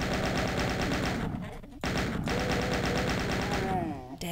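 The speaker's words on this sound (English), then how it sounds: "Dang chain gunners?" Chaingunner enemies in DOOM 2 fire chain guns in loud, continuous rapid bursts, with a brief drop in the middle and a cutoff near the end, heavy game music and effects filling the background.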